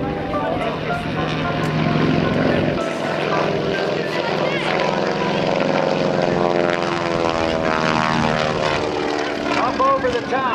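A Stearman PT-17 biplane's propeller engine roars steadily and loud through an air show aerobatic routine, its pitch rising and falling as the aircraft maneuvers, with an announcer talking over it.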